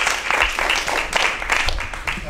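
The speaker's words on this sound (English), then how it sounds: "So please help me welcome our panelists with a round of applause." An audience gives a round of applause to welcome panelists at a Dodgers panel discussion, with uneven bursts of clapping under a voice that speaks over it.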